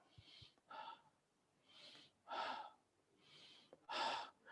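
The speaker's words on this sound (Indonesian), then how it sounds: "Itu suara napas itu" Close-miked breaths drawn in and let out through a sensitive sound system, a series of roughly six slow, airy inhales and exhales with pauses between, some sounding like gasps or snorts.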